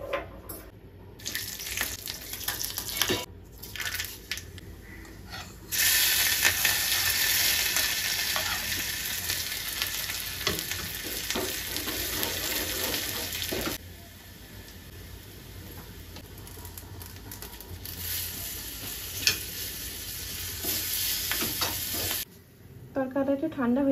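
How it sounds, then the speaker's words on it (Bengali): Curry leaves, garlic, chillies and mustard seeds frying in a tempering pan, a steady loud sizzle with stirring and brief bursts, the hiss dropping and rising again across the stretch. "আর এই লঙ্কা দুটো ভাজবো"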